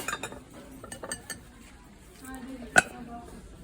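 Ceramic plates and dishes clinking in a housewares store, light scattered clatter with one sharp ringing clink, while people talk nearby.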